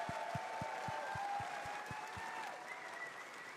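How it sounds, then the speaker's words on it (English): Steady applause from a crowd, a dense patter of clapping that holds evenly and then eases slightly toward the end. "Big round of applause to the whole sound team at DE."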